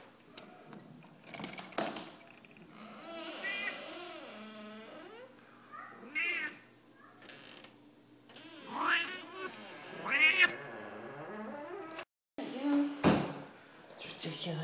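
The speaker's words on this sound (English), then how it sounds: "What would you do with a screaming cat all the time?" Domestic cat screaming and yowling in a house, a string of loud, wavering meows and caterwauls close by, with a few clicks and knocks between cries.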